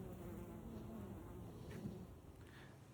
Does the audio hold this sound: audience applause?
no